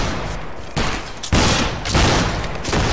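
Musket volleys in a video game crack out in several loud, ragged bursts of overlapping shots, each rolling volley following closely on the last.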